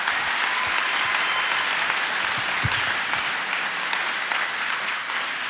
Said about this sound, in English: Please help me with a round of applause to thank them for their contribution.